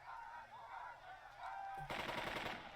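Machine gun fire in the Burden of Command tactical video game, a loud sustained burst breaking out after a stretch of quieter ambient battle sound, with no voices.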